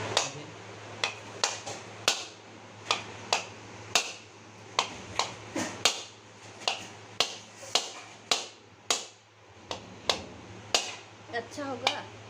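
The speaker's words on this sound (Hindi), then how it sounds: "तो आज तो फ्रेंड्स पीठा बनेगा, दादी जी बनाएगा, इसलिए नारियल को हम तोड़ रहा है।" A coconut being cracked open by hand for making pitha, with a series of sharp, close knocking strikes in an irregular rhythm over a low steady hum, and voices speaking faintly in the background.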